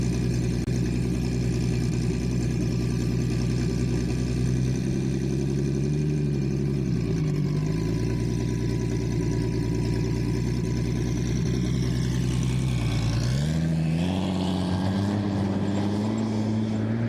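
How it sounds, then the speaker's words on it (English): A Toyota 2JZ inline six-cylinder engine runs at Speedweek 2025 with a loud, continuous drone. Its pitch dips and then climbs twice as the turbo spools up, with a rising whine near the end. "I hear that turbo spooling up. That is a 2JZ 6-cylinder Toyota engine."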